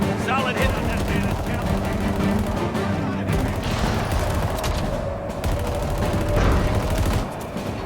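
Gunfire in a shooter video game, with dense bursts of shots and impacts over a steady layer of game sound and music, while a person talks over the action.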